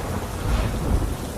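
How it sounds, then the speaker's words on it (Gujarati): A monsoon downpour in Gir Somnath, Gujarat, drums steadily while deep thunder rolls low beneath it, the rain loud and unbroken throughout. "સોમનાથમાં વરસ્યો અવિરત વરસાદ"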